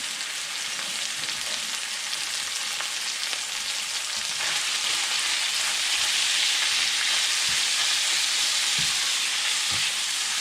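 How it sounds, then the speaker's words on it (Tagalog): Steady, loud sizzling of ground pork frying in a pan, a dense crackling hiss with occasional soft knocks, no voices. "Medyo iprito-prito natin to."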